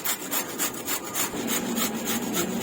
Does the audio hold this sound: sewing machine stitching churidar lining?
no